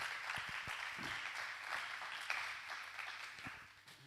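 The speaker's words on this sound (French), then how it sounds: "Est-ce qu'on peut acclamer le Seigneur?" A church congregation applauds the Lord in a steady, moderately distant round of clapping that carries through and tapers slightly at the end.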